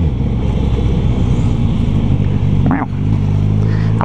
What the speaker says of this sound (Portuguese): Olha os pipocos desse escapamento